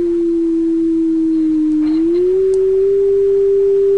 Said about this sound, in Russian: Это синусоидальное напряжение частотой примерно 350 Гц, которое подается сейчас на осциллограф.